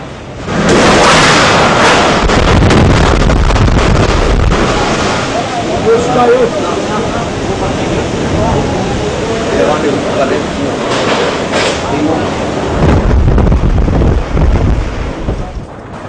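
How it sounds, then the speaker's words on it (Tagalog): A violent typhoon wind roars and buffets continuously, a heavy rushing noise that surges and eases but never stops. "Milanat og 4 ka oras ang kusog nga paghaguros sa hangin."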